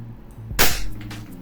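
A WE Glock 17 airsoft pistol with a black slide and tan body fires one sharp, loud crack. A brief ringing tail follows, and a faint background hum runs before and after the shot.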